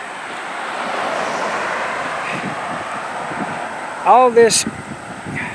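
Steady outdoor wind roars and rushes across the whole stretch, broad and fairly loud, with a brief burst of a woman's speech near the end cutting through the gusting noise.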